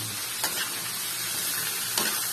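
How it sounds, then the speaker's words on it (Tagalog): A savory pulutan dish sizzles steadily in a frying pan while being stirred, a constant close hiss with two faint scrapes of the utensil against the pan. "Halo lang uli ng halo."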